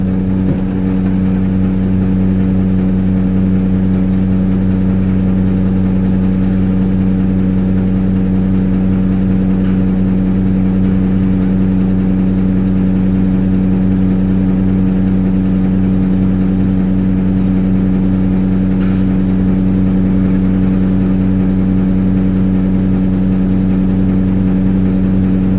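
A truck engine idles steadily close by on a route in Pueblo, Colorado, a constant deep rumbling drone with a low hum that holds unchanged for the whole stretch.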